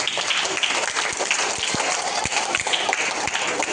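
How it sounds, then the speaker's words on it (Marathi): School students at a Guru Purnima event clap in congratulation for first-grade classmates: a dense, steady wash of crowd clapping runs throughout, with a few sharper individual claps standing out. "इयत्ता दुसरी, तिसरी आणि चौथीच्या विद्यार्थ्यांनी पहिलीच्या विद्यार्थ्यांसाठी अभिनंदन म्हणून टाळ्या वाजवायच्या आहेत"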